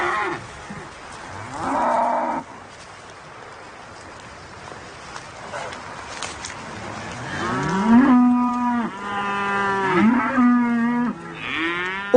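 Highland cattle moo on a Scottish hillside near Loch Venachar, several drawn-out, loud lowing calls with rising and falling tones, first one call early on, then a cluster of repeated moos toward the end, with quiet outdoor ambience between.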